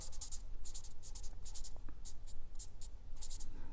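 A pen writing on paper, with a steady close scratching of quick strokes and short pauses, continuous and fairly quiet, no talking.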